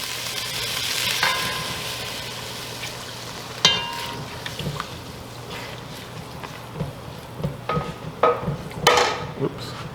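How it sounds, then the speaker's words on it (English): Coconut milk poured into a hot, sizzling pan for Thai Panang curry: a steady frying sizzle with liquid splashing in, followed by stirring and scraping clinks of a utensil against the pan, close. "Now I'm going to go ahead and add my coconut milk."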